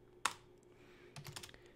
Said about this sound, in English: I do that by typing a dot and a slash Vina and then press the tab key